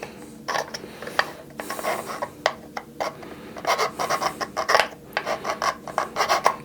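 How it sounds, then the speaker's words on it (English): Needle file smoothing a cut plastic part of a 1986 G.I. Joe Dreadnok Swampfire toy: a quick run of close, raspy rubbing strokes, sporadic at first and then denser and more rhythmic toward the end. "Take a needle file."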